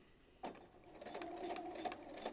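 A sewing machine bastes along the armhole of a medieval-style underdress without back stitching, starting with a single stroke and then running steadily and close for about two seconds, alone with no talk.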